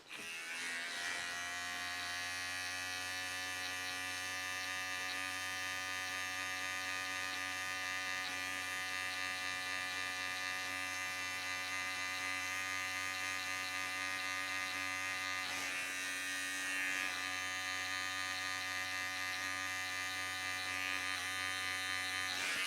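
Electric hair clippers buzz steadily and loudly throughout a low taper self cut, a constant motor drone with no speech over it.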